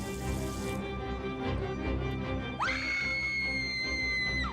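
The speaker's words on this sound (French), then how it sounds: "ça fait la 10e fois de la vidéo qu'elle crie" A woman screams loudly, a sustained high-pitched shriek that breaks off sharply and then rises into a second strained wailing scream, heard close and alone for a few seconds.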